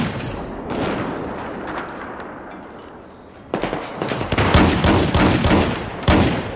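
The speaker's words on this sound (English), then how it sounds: "Oh, he got you with the machine gun." Machine gun fire in Battlefield 4 fills a busy battlefield. Quieter distant rattling comes first, then a lull, then loud close automatic bursts with sharp individual cracks that continue to the end.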